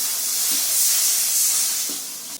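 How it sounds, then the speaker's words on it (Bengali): Water poured into a hot pan of fried spiced curry masala erupts into a loud, close, steady hissing sizzle that holds for a couple of seconds before a clunk at the end. "এবার দিয়ে দেবো আমি দিচ্ছি জল"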